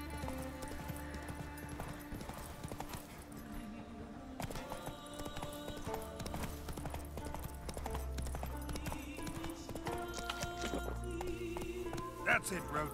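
The horse Roach gallops in The Witcher 3: Wild Hunt, hooves clip-clopping in a quick, even rhythm, fairly quiet and mixed under game music and background sounds.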